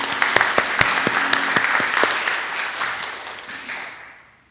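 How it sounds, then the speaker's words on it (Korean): A church congregation at a Sunday worship service applauds loudly with dense, sharp hand claps that hold steady and then fade away toward the end. "우리 하나님 아버지께 감사와 영광의 박수 올려드리겠습니다."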